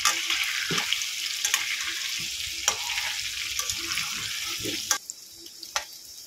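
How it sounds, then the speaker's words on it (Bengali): Potatoes seasoned with salt and turmeric frying in oil for a beef-and-potato dish, a steady close sizzle with brief clinks and scrapes of stirring throughout. "দিয়ে আলুটাকে ভালো করে ভেজে নেব"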